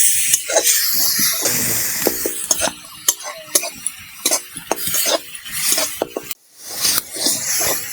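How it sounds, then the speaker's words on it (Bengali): Spice paste being stir-fried in a pan for an okra and mashed potato dish, with a utensil scraping and stirring in repeated short strokes over a soft, steady sizzle. "একটুখানি মশলাটাকে কষিয়ে নেব"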